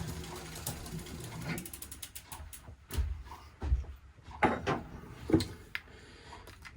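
A bicycle drivetrain on a DMR Trailstar jump bike is turned by hand as if pedaling. The freewheel ratchet clicks in quiet bursts among scattered mechanical rubbing and knocks, close by and faint.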